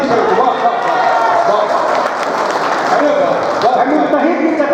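Crowd at a mushaira poetry gathering claps steadily throughout, a dense continuous wash of applause with voices mixed in.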